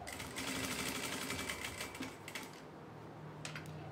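A sewing machine stitches a quilted placemat in a fast, steady mechanical whir of needle strokes, close and continuous, slowing briefly near the end.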